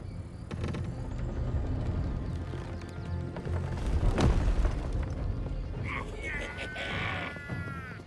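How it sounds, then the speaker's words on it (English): A cannon fires in a Baldur's Gate 3 battle scene, one deep heavy boom landing midway through a loud wash of chaotic battle noise and crowd commotion, with shouting voices and a ringing tone afterward. "Cannon!"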